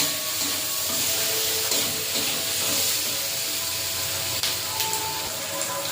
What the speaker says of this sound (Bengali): দিয়ে দেবো টমাটো দিয়ে মশলাটা ভালো করে কষিয়ে নেব